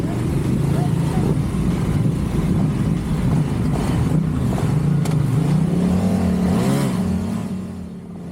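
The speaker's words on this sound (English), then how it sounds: "A couple practice launches, trying to grunt this thing off the line without lighting the tire up on the slick pavement." An adventure motorcycle at a flat track race at the Sturgis Bike Rally revs hard during practice launches on slick pavement, a loud, steady, rumbling engine roar with shifting pitch and a voice talking over it.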